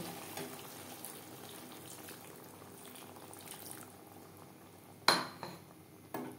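Water poured into a pan of pointed gourd and spices for a vegetarian potol curry, a low steady wash of liquid with a sharp clatter of utensil against the pan near the end.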